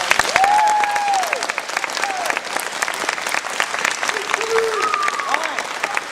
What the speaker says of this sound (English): I think we need to give Cody a big round of applause.